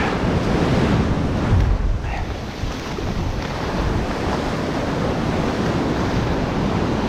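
Ocean surf on a foggy morning rolls and breaks continuously around a person standing in the waves while fishing, a steady loud wash mixed with heavy wind rumble on the microphone, with no one talking.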